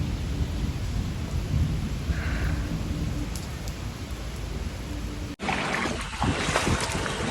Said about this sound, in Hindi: बारिश हो रही है हल्की हल्की, अभी तो तेज़ हो रही थी थोड़ी देर पहले